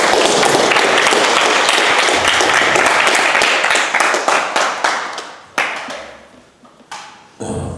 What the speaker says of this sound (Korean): 자, 큰 박수로 모시겠습니다.